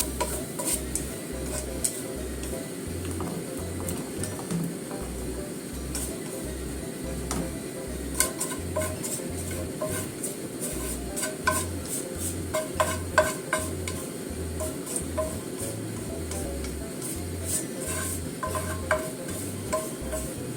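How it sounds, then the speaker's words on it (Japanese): Burdock root stir-frying over medium heat for kinpira gobo, a soft steady sizzle under a regular ticking rhythm of utensil strokes against the pan, fairly quiet and continuous without speech. "あとはこの中火で炒めます。"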